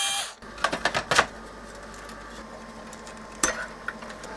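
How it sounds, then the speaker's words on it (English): Removal of the socket plate from a Revox reel-to-reel tape recorder chassis: a handful of close metallic clicks and taps bunched near the start, then quiet, then one sharper clack and a small tap toward the end. "I'll remove the socket plate first."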